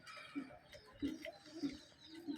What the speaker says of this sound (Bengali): আমার কাছে প্রায় তিরিশটির মতো কবুতর আছে